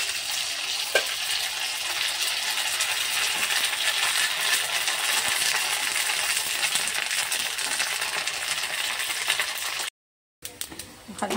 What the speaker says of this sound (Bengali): একটা করে পাঁপড়গুলো ভেজে নেব।